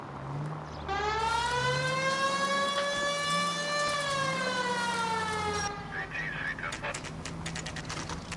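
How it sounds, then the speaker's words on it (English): A police car siren in the video game L.A. Noire wails steadily for several seconds, loud and close, while the engine hums underneath. The siren then cuts out and clicks and rustles follow. "Please, Phelps, the siren."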